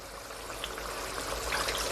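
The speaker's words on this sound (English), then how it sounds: "And I'm gonna also add some more water." Water pours into a pot of Jamaican curry stewed pork, a steady close trickling stream running for a couple of seconds with no talk.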